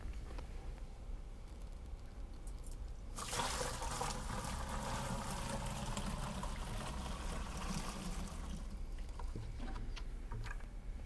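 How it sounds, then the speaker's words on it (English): Hot water and detergent pour into a Cimex carpet cleaning machine, a quiet start giving way to a steady splashing, gurgling stream that runs for several seconds before easing off. "Put it in with our hot water, and then we put the detergent into the machine."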